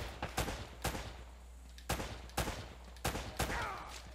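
Gunfire in the action video game Uncharted: Drake's Fortune, several sharp shots in pairs and singles spread over a few seconds, with a low steady background hum and no talk.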